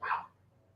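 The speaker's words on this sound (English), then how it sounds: "Jolie, I don't know what she's barking at." One short, sharp bark from a pet dog called Jolie, moderately close and fairly quiet, over a faint low hum, with no voices.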